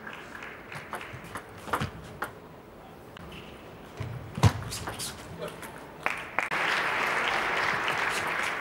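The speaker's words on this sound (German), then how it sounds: "Der Beifall gilt" Spectators applaud at a 2013 Austrian Open men's singles badminton quarterfinal: scattered claps and taps build into sustained, fairly loud clapping that fills the final seconds.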